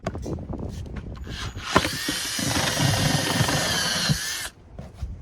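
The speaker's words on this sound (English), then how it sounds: "I'm just going to drill a hole in that lid" A power drill whines steadily for a couple of seconds as it bores a hole through a plastic bucket lid, preceded and followed by handling clatter and knocks.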